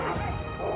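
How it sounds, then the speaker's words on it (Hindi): Several dogs bark in a dense, loud burst, with overlapping yips and barks packed into under a second amid a noisy background. "बहुत कुत्ते।"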